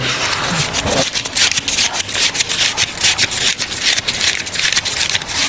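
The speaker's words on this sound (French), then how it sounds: "Ce bruit des billets que compte Alexandre dans le bureau voisin le confirme" Banknotes being counted by hand in a neighbouring office: a fast, continuous run of papery rubbing and flicking strokes in a quick, even rhythm. It is fairly loud and heard on its own, without speech.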